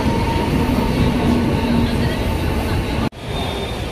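A Mumbai local train rumbles past at close range in the evening, a loud, steady roar of wheels and cars that cuts off abruptly near the end before a quieter rumble resumes.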